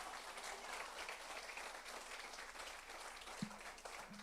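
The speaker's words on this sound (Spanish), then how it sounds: "Dale un aplauso si quieres para el Señor." Applause for the Lord rises from a church congregation, a steady wash of many hands clapping at moderate distance throughout, with a brief louder knock near the end.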